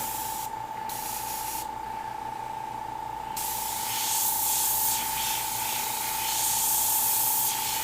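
An airbrush sprays paint in a steady, close hiss that runs the whole time and swells a little louder partway through, with an unchanging whine beneath it and no voices.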